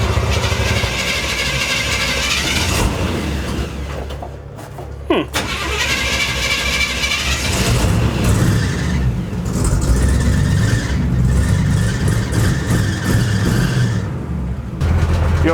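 Engine of a screen-used Mystery Machine van at a drag strip: a loud, close engine that roars and revs hard, cuts out briefly near the middle, then picks back up into a sustained strong rev.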